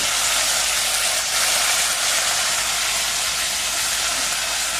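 Ginger garlic paste hitting hot oil in a pan while cooking biryani, a loud, steady, broadband sizzle that holds evenly for the whole stretch without talk.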